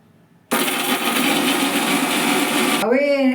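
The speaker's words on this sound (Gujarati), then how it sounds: "હવે એમાં આદુ, લસણ નાખી આપણે પીસી લઈએ." A mixer grinder crushes ginger and garlic, starting abruptly and roaring loud and steady for a couple of seconds before winding down into a falling whine.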